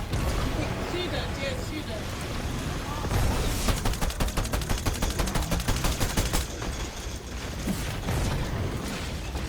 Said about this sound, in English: I'm shooting the cube.